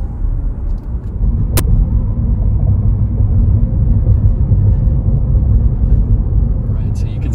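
Chevrolet Bolt EUV electric car climbing a mountain road uphill, a steady low road and tire rumble filling the cabin throughout, with one brief sharp click partway through and faint background voices.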